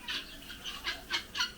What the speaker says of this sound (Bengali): মুরগির ডাকটা তুলনামূলকভাবে কম শব্দের হয়ে থাকে